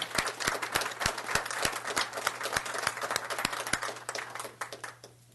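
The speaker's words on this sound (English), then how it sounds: "So give them a big round of applause" Applause at a Board of Supervisors meeting is a scattered round of hand claps with distinct individual claps over a steady hum. It fades toward the end.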